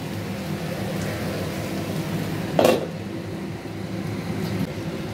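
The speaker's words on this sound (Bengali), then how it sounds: "আর একটু ঢাকা দিয়ে দিই" A lid set on a cooking pot of mixed vegetables gives a single short metallic clank over a low steady kitchen hum, with faint rattles afterward.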